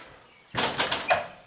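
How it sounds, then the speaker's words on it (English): A heavy glazed front door of an old house in Aubeterre swings open into the entrance hall, a close creak and clunk after a moment of quiet, with a couple of further knocks of wood and hardware. "a lovely heavy door,"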